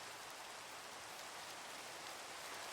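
Steady, even rain hisses throughout in a video game, a continuous soft wash of droplets with no breaks and no talking.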